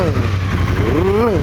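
A classic Triumph motorcycle engine with a 270-degree crank runs with an uneven, throbbing pulse, revving up and easing off with a loud, close, rumbling tone.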